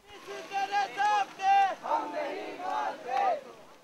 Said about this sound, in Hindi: दूसरी तरफ जमीयत के कारकुन यूनिवर्सिटी से निकाले गए तलबा की बहाली के लिए नारे लगा रहे थे